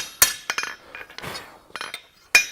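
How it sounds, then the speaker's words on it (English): A blacksmith's hammer strikes hot metal on an anvil while spreading stock with the hammer face, a series of sharp ringing blows in irregular clusters with short pauses between. "using the face of our hammer to do the spreading"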